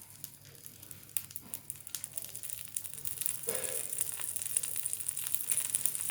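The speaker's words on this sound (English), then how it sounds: "You hear that sizzle?" A mushroom, cheese and tomato omelet cooks in a pan, its egg sizzling with a steady high hiss and a scatter of small crackles and pops that grow slightly louder over several seconds.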